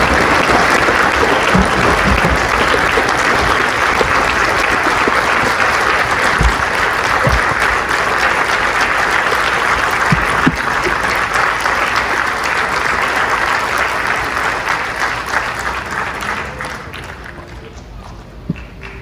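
A conference audience claps in sustained, dense applause that holds steady for most of the time, then thins and fades away near the end.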